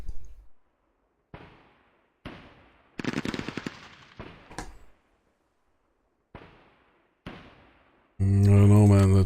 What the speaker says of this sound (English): I don't know, man, that machine gun.